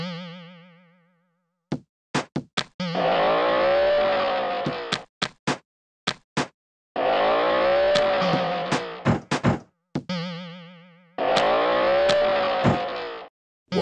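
A cartoonish game car in a Peppa Pig driving game hums and whines through three long stretches of engine noise, separated by springy boings, clicks and quick game effects.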